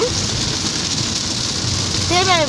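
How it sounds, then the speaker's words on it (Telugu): Heavy rain pours down steadily in a dense, continuous hiss, with a short whistling tone toward the end. "చూసారా ఎట్లా పడుతుందో వర్షం"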